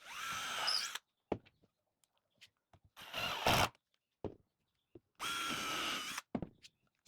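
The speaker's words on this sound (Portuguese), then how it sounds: "Vocês estão vendo que eu estou furando um furo de cada vez aqui?" Power drill boring holes one by one into a drawer, three separate bursts of about a second each with quiet pauses and small knocks and handling clicks between them, close and fairly loud.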